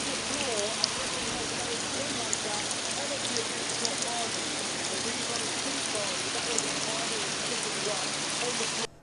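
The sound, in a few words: rain falling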